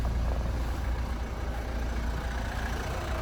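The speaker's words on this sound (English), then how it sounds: "So as we can hear it running at the moment, it is a diesel, but it is running nice and smooth." A 2013 Kia Sportage Platinum diesel engine idling, a steady low rumble with an even hum that holds constant and close throughout, with no talk over it.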